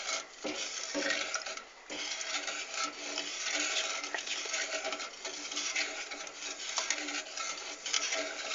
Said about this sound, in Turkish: Nişastalı karışımımızı ekledikten sonra karıştırmayı kesinlikle bırakmıyoruz. Sürekli karıştırıyoruz.